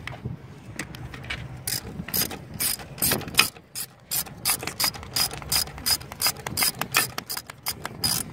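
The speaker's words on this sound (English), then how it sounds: "So now we're just going to tighten up that tensioner bolt." Rapid ratchet clicks in repeated bursts as a socket wrench tightens the alternator belt tensioner bolt on a 1996 Honda Accord V6, close and crisp with short pauses between strokes, no talk.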